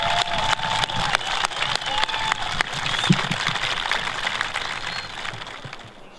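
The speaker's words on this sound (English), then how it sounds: "And how about a round of applause for them?" Applause from a crowd at a high school graduation ceremony for the graduating class, a sustained wash of clapping heard from a distance that gradually fades out.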